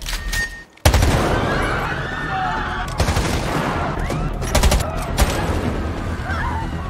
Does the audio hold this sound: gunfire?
yes